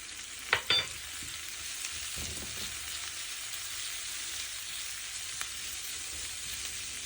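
Cinnamon pieces, spices and dried Maldive fish are sautéed in a pan, giving a steady soft sizzle with a couple of sharp stirring knocks near the start and a faint tap later, with no voices.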